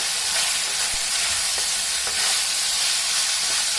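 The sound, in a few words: chilli chicken frying and being stirred in a pan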